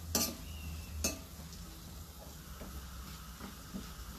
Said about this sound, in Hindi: ये भी हमें अच्छे से भूनना है, गोल्डन ब्राउन होने तक हम भून सकते